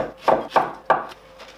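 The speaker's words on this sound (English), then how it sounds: "Now slice green onion. So I will slice like diagonal" A knife cuts green onion on the diagonal against a board: three quick, close strokes in a steady rhythm, then a fainter fourth.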